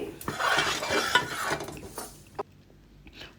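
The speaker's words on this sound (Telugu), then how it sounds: "అదే క్వాంటిటీలో మినపగుళ్ళు కూడా వేయించుతున్నాము" Urad dal frying in sesame oil in a pan, with a bubbling, crackling hiss and scraping stirring strokes up close, fading to quieter sizzling toward the end.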